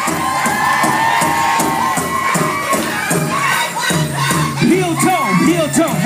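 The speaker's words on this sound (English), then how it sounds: "Give them a round of applause." A loud crowd cheers and whoops with scattered clapping, excited voices rising and falling in a lively, echoing room.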